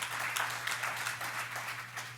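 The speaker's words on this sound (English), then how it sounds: "You can applaud for that." Applause from the audience at a Surrey Board of Trade annual general meeting, a steady, fairly quiet patter of many hands clapping throughout, with a faint steady hum underneath.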